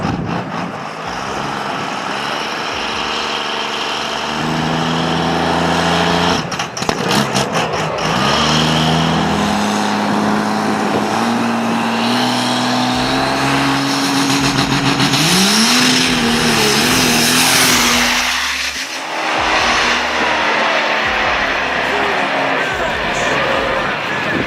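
A Shelby GT500 with a DNR Customs exhaust revs hard and loud on a dyno stage, a sustained roaring engine note rising and falling in pitch without a break.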